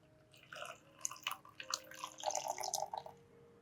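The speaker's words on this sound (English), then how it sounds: "Pour tap water into the other cup." Tap water pours into a plastic cup holding an orchid leaf, heard as a string of short, bright splashes and drips in bursts, close and fairly quiet, with a brief fuller trickle toward the end.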